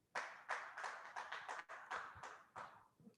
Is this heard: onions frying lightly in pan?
no